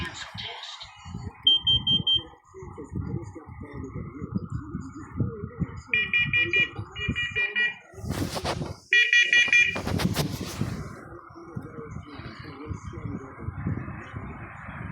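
Short, piercing smoke alarm beeps sound in bursts, several chirps then a longer pattern, while a person talks over them nearby.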